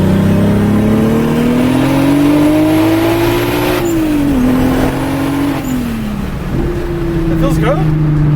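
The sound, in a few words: Volkswagen VR6 turbo spooling while driving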